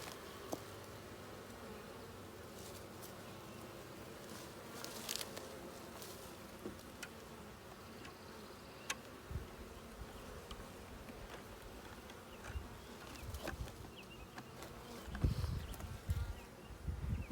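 A steady, dense buzzing of many bees from a caught swarm hums throughout, close and continuous, with occasional small taps and knocks over the drone.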